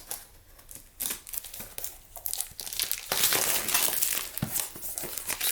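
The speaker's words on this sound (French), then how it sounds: "donc je vais enlever le plastique" Plastic wrap crinkles and tears off a diamond painting box, close and continuous, growing louder and busier partway through.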